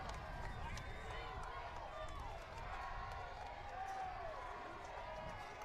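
Crowd noise rising from the stands at a West High versus Highland high school playoff football game, a steady broad roar of fans cheering throughout, with a commentator's voice talking over it.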